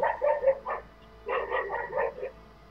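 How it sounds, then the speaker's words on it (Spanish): A neighbour's dog barks loudly behind closed windows, two bursts of repeated barks and yips separated by a short pause, heard muffled over a low hum. "Sigue ladra fuerte el perro, el vecino con las ventanas cerradas lo oigo."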